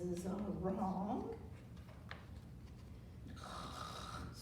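A human voice imitates a bear snoring during a children's picture-book reading, with a drawn-out rasping snore at the start, then quieter breathy sounds and a brief higher tone near the end.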